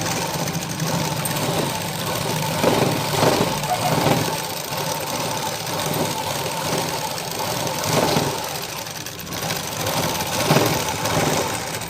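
A sewing machine stitching a side joint in a garment, running steadily with a continuous whirring hum and faint rhythmic stitching pulses throughout.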